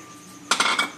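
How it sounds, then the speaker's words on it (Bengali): Cut chicken pieces drop into a bowl with a short burst of wet clattering and a few clinks, close and moderately loud, following a brief quiet stretch. "তা চিকেন কাটা সব এই বাটির মধ্যে আমি নিয়ে নিচ্ছি।"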